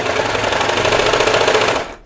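A serger stitching a cardigan seam at the center back, a fast, steady mechanical whir of loud needle chatter running continuously before stopping abruptly near the end.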